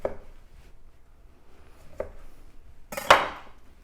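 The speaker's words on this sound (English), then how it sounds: "I'm gonna roll the limes first. Cut them in half." Knife work on fresh limes, rolling them and cutting them in half: a few faint soft bumps followed by one brief, sharp chop-like crack, near and isolated, with no talking.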